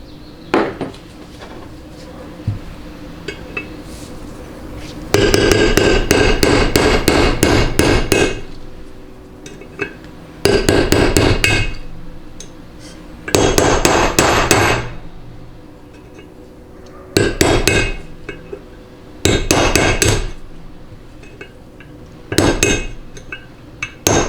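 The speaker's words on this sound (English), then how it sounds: "I'll just use a long narrow drift and just kind of tap it in so that it eventually collapses" A hammer drives a long narrow drift against a bushing in a 200-4R automatic transmission drum, producing loud bursts of rapid metallic taps separated by short pauses, with no talking over it.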